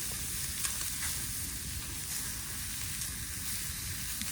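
Seasoned pork chops sizzling on a grill over a campfire, a steady close crackling hiss with small pops throughout, no talk heard.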